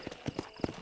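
Horse hooves clip-clopping in the Western video game Red Dead Redemption, four distinct close hoofbeats in a quick, uneven rhythm, the last one loudest.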